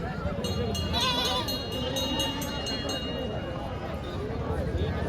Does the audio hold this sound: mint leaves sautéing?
no